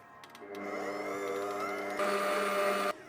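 A stand mixer whisks egg whites with sugar in its bowl, its motor droning steadily and then stepping up to a higher, louder speed before stopping short. No one speaks.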